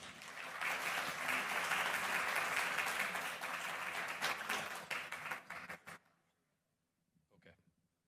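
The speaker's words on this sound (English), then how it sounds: "A round of applause, please." Audience at a cancer caregiver community event applauding: sustained, full clapping for about six seconds that thins and stops abruptly, followed by near silence and a brief quiet voice.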